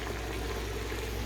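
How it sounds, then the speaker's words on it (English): A steady, dense bubbling and hissing of beef stew broth with bay leaves boiling in a pot, continuous and even, with no voices. "Our bay leaves are boiling."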